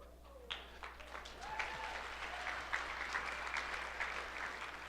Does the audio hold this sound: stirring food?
no